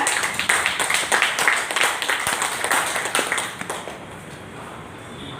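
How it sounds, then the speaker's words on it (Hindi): A group gives loud, rhythmic clapping for their teachers, sharp, close hand claps for about four seconds that then stop, leaving quiet room tone. "गुरु के लिए एक बार जोर से तालियां बजाइएगा।"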